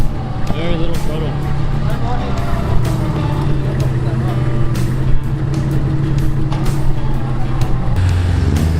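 A 4WD vehicle engine runs on light throttle over an off-road track, a steady low rumble close by with jolts and knocks from the rough ground.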